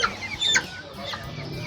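Chickens held for fowlpox vaccination cluck and squawk nearby in short excited bursts, with a few sharper calls over steady background noise.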